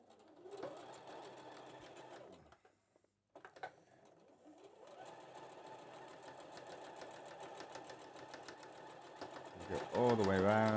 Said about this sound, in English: go over to your machine and you want to stitch all the way around, about 1/4 of an inch in from the edge